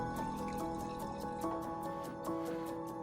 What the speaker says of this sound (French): Le Parisien remplit son verre de vin.